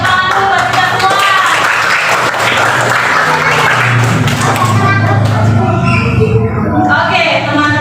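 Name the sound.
applause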